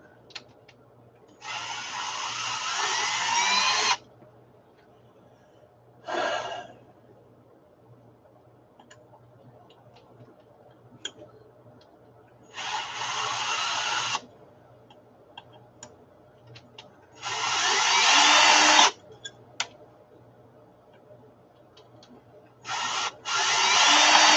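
A power drill slowly drives screws that are at risk of stripping out. Four or five separate loud whirring bursts come up close, with quiet pauses between them.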